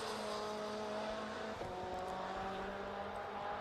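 A Caterham race car drones along a circuit at a steady engine pitch, heard from a distance as a faint, even tone with a brief shift in pitch partway through.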